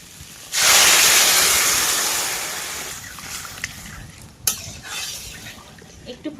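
Water poured into a frying pot of potato curry on a rural Sundarban cooking fire bursts into a sudden loud hiss that slowly dies away, then gives way to scraping stir sounds and a sharp clatter.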